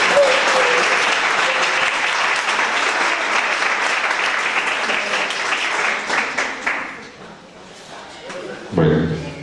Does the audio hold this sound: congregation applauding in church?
yes